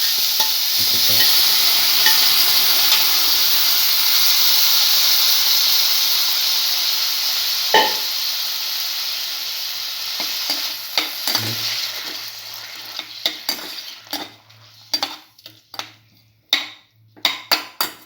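Cinnamon potato mixture frying in a pan, a loud steady sizzle and hiss that fades, giving way to sharp scraping and tapping of a utensil mashing and stirring against the pan, close with no talk.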